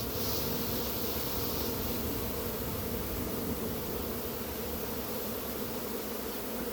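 A honeybee swarm buzzes in a dense, steady hum that stays even and fairly close throughout, with no voices.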